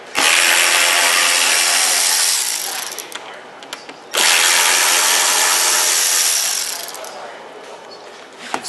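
A power drill backs T15 Torx screws out of a Corvette fender in two loud, whirring bursts of a few seconds each, each tapering as the screw frees, with brief quiet clicks between them.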